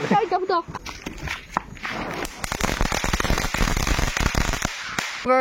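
Village Diwali firecrackers burst in a rapid run of sharp, loud cracks and pops. Voices are heard first, and the cracks then continue over several seconds.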